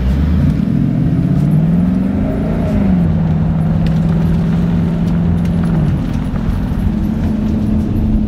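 Ford Mustang V8 driving close and loud, a deep steady engine drone with a few rising revs and a brief peak before the pitch drops and holds through the rest.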